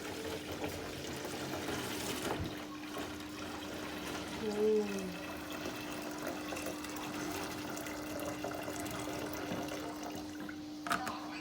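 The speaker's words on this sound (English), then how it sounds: "Are you gonna fill that with water?" Water pouring into a container while someone dilutes an overly sweet mix of sugar and syrup in a Jamaican home, a steady rushing fill that runs the whole time with voices chatting over it.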